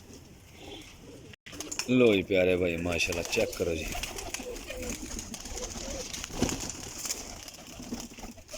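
Pigeons, high-class flying breed, cooing in soft repeated throaty calls close by, with someone talking over them throughout.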